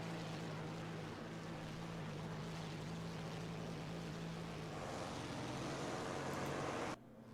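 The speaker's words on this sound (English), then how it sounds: "his engine sounds like a bee" An aircraft engine in the War Thunder game drones loud and steady, with a constant low hum and broad roar that shifts slightly in pitch before cutting off abruptly near the end.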